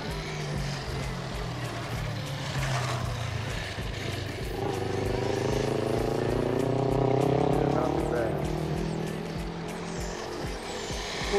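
A Guokai 1:16 RC 4x4 monster truck's small electric motor whines steadily, its pitch rising and falling as the throttle changes, with the drone continuous and fairly close under a rough outdoor background.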